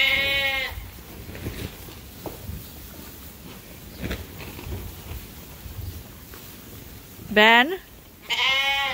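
Sheep bleat loudly on a sheep farm, one call at the start and two strong bleats near the end, with quieter farm noise and brief speech between them.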